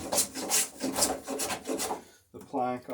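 Hand trimming of a wooden plank for aircraft strakes, with a series of rhythmic rasping strokes, close and moderately loud, ending in a brief pause and a final scrape.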